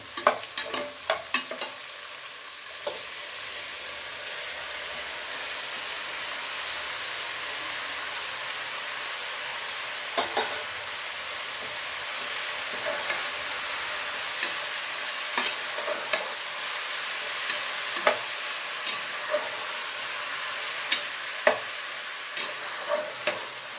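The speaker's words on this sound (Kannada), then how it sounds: "ಇವೆಲ್ಲ ಫ್ರೈ ಆಗಿದೆ ಈಗ ಟೊಮೊಟೊ ಕೊತ್ತಂಬರಿ ಸೊಪ್ಪು ಕುವಿನ ಸೊಪ್ಪು ಎಲ್ಲನೂ ಹಾಕೋಗ್ತೀವಿ" Tomatoes and coriander leaves fry in a pan with a continuous close sizzling hiss, broken by scattered clicks and scrapes of stirring throughout.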